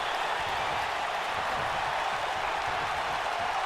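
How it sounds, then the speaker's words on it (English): A large arena crowd roars and cheers steadily throughout a WWE 2K19 wrestling match, a dense, continuous wash of noise with no clear breaks. "Listen to this crowd."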